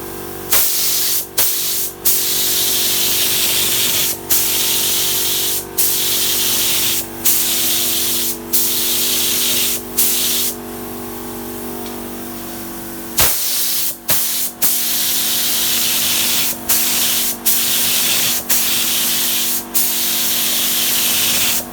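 A spray gun or aerosol hisses in repeated short bursts while painting a tack-ragged car roll cage hoop, each spray pass separated by brief pauses, steady and close with no talking.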